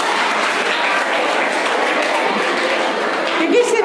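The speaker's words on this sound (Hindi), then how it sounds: "एक बार शिवांश के लिए जोर से तालियां बजा दो" A group of schoolchildren clapping for a classmate, Shivansh, in a classroom; a fast, steady patter of many small hands, fairly loud and continuous, with a voice rising briefly near the end.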